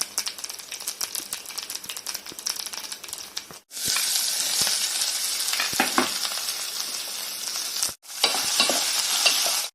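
Chana dal, urad dal, dried chillies, mustard and cumin fry in oil, crackling and popping loudly up close, with a spatula stirring and briefly interrupting the dense sizzle twice.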